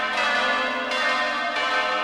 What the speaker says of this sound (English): The bells ringing when the duel starts and then ringing harshly when they ends.